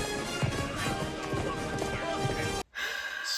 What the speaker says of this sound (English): He's really good at riding a horse.